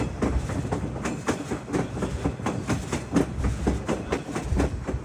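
White Pass & Yukon Route train rolling along a mountain railway, steady clickety-clack of wheels over rail joints in a continuous rhythmic pattern, fairly close and loud with no voices.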